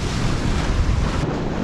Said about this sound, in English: the waves coming in there is pretty sketchy